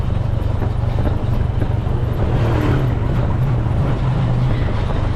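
A motorized tricycle ride along a road, its engine a steady loud low drone with road and wind noise running throughout, close and continuous.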